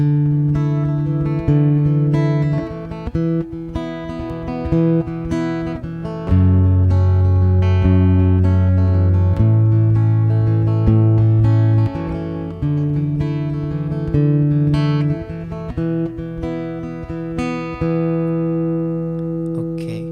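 Slow guitar chords ring out one after another, each strummed twice, sustained and clear with no talking.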